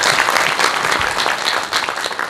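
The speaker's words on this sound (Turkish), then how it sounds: "Onlara bir hoş geldin alkışı rica ediyorum sizlerle." Welcome applause from the audience at a short-story competition award ceremony, a brief, loud and dense burst of many people clapping close by.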